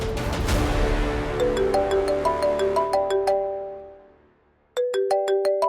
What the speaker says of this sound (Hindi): अमय का फोन